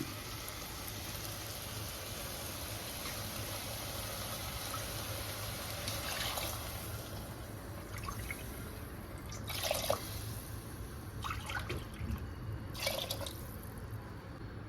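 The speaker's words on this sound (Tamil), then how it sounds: "அதே கப்பில் 3 கப் தண்ணி ஆட் பண்ணிக்கலாம்." Water is poured into a pan for wheat rava upma, a faint continuous trickle and splash over a low background hum, with a few louder splashes near the end.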